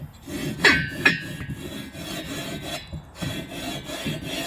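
A part for an air-cooled engine is lapped by hand to seal, giving a few dry, gritty rubbing strokes back and forth, close and moderately loud, with pauses between them.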